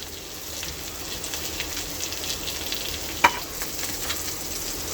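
Raw cumin seeds stirred as they fry in a pan with moringa leaves and chopped raw rice, giving an even, close crackling sizzle with one sharp metallic clink partway through.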